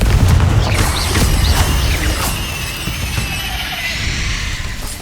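Confringo blasting spell cast in Hogwarts Legacy, a loud fiery burst at the start that trails off into crackling, rumbling debris and a lingering mechanical hum.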